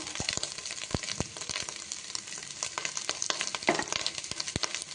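Chopped onion, a green chilli and crisp-fried chituku sizzle with a pinch of salt in a pan, giving a steady, crackling fry with sharp pops and occasional stirring clicks throughout.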